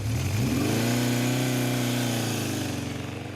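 A Honda CB750 motorcycle engine starts up and revs up, then settles back down, close and loud throughout with no talk.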